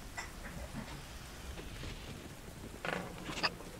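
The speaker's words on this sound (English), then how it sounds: "there's torrential rain pouring down" Torrential rain pouring down as an ambient effect during a tabletop RPG session, a faint, steady hiss and patter with a couple of slightly louder splashy bursts near the end.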